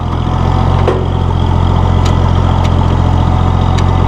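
A 1966 Oliver 1650 row crop tractor engine runs steadily in gear, a close, even low diesel-like drone with a constant throbbing pulse and a few faint clicks, no voices.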